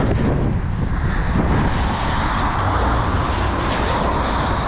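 Strong wind buffets the microphone during an outdoor road run, a loud, dense, continuous roar with gusty rumble throughout and nothing else audible.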